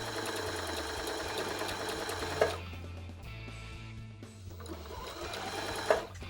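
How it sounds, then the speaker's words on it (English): A sewing machine runs steadily and up close, sewing quilt fabric pieces for a Grandma's Fan quilt block, a continuous mechanical hum with two brief louder knocks and no talking. "We're gonna keep both sides together and we're gonna sew it all the way till we get to the end."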